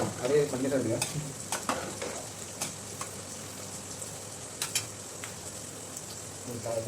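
A pot of chicken biryani curry boils, bubbling and sizzling steadily at close range, with occasional sharp clicks and scrapes of a utensil against the pan.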